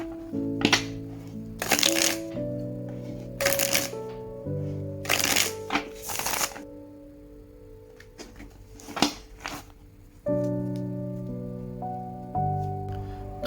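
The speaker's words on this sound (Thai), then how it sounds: "เดี๋ยวเราลองมาสับไพ่แล้วดูกันเลยนะครับ" Tarot cards are shuffled by hand in several quick riffling bursts, close and crisp, over steady background music with no talking.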